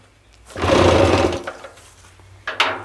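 A 1965 Johnson outboard motor at a log cabin hunting camp catches and fires in a short, loud burst of sputtering engine noise lasting about a second, then dies back, followed by a brief second cough.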